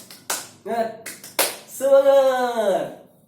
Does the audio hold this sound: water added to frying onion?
no